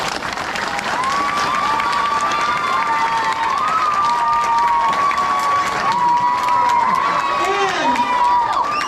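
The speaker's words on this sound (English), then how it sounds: "let's give them a good round of applause" Sustained applause from an audience, a dense patter of clapping mixed with scattered cheers and voices, steady from start to finish.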